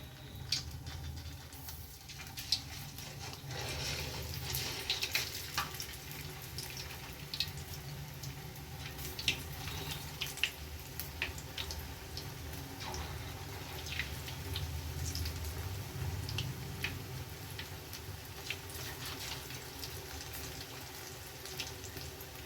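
Okra chips dropped into hot oil frying: a continuous soft sizzle and crackle with scattered pops and light bubbling that hold steady throughout, fairly quiet, no voices.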